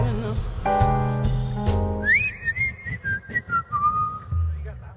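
A person whistles a short, wavering melody during a live jazz quintet performance, the whistled line rising out of instrumental chords and then continuing alone over low accompaniment.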